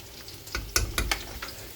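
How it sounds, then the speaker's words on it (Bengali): Potatoes fry in a pan for a chicken dish, a low steady sizzle broken by a few short scraping bursts from stirring, close and moderately quiet, with no voices. "আর এদিকে চিকেনের আলু ভাজা হচ্ছে"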